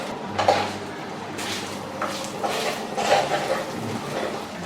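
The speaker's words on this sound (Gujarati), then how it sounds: "બધું સારી રીતે મિક્સ કરીએ।" Spoon clinks and scrapes against a bowl as peanut and sesame powder seasoning is mixed for chatt batet, in irregular clattering bursts close by.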